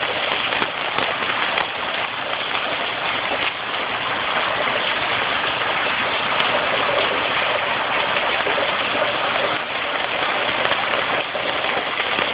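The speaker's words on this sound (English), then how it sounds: "Rain, heavy rain. Coming sideways." Heavy tropical-storm rain pelts a roof and porch in a dense, unbroken roar that holds steady and loud throughout, with no voices.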